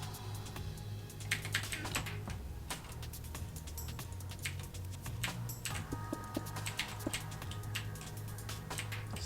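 Typing on a sticky computer keyboard, a rapid irregular run of sharp clicks and taps over a low steady background hum, fairly close with no talk.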